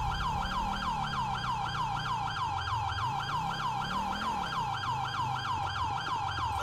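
A police car siren in GTA with the LSPDFR mod wails in a fast, steady repeating cycle, loud and continuous over a low engine drone.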